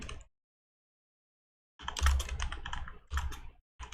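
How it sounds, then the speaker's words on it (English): Bursts of computer keyboard typing, quick clustered key clicks after a short silence, close and fairly loud with no talking. "I'm gonna type in third world"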